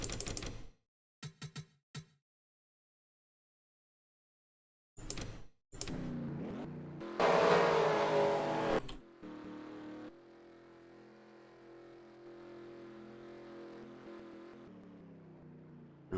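Race cars in the NASCAR Racing 2003 video game come in short bursts separated by silence, then a loud engine surge roars for a couple of seconds. A lower, steady engine drone follows and slowly fades, with no talking.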